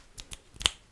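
Three quiet finger snaps sound close up in a hushed ASMR setting, evenly spaced crisp clicks with the last one sharpest, over near silence.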